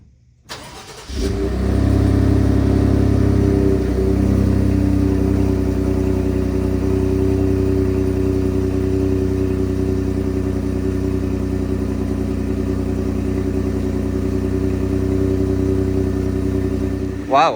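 A Ford F-150 EcoBoost truck with a 2.7 or 3.5 engine fires up with a brief cranking burst. It then settles into a loud, steady, low idle that holds close and unbroken to the end.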